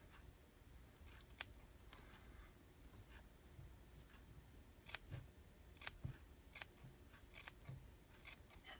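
Scissors snip through washi tape in a quiet room, giving a scattered series of faint, crisp cuts and small rustles at an irregular pace.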